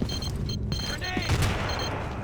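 A grenade bursts in a Battlefield 2 infantry fight, a sudden booming blast amid ongoing gunfire, with radio-style voice chatter in the mix.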